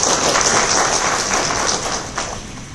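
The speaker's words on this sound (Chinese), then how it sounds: "请让我们以最热烈的掌声欢迎张经理上台" A conference audience applauds to welcome a speaker onstage, dense continuous clapping from a large crowd that fades slightly near the end, with no talking over it.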